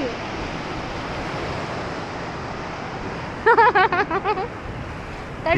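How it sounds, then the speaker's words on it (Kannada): Steady surf of the Arabian Sea at a beach in Goa roars in a continuous wash of waves, then a voice speaks briefly over it. "this is nothing but Arabian C"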